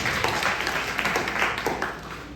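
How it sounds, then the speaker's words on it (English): A comedy club crowd claps and applauds in a steady, dense burst that eases off slightly toward the end. "Give yourself a round of applause."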